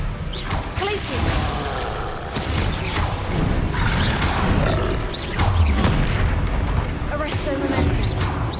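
Spell effects from the video game Hogwarts Legacy, including fire, freezing and disarming casts, burst in repeated booming impacts and crashes over continuous battle noise, while a voice calls out the spell names throughout.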